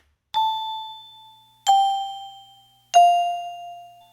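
Three clear bell dings ring out one after another, each a bright struck tone that lingers and fades slowly before the next.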